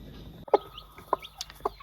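A brooding hen clucks in short, separate bursts, three or four sharp clucks spaced about half a second apart, close by over a faint background hiss.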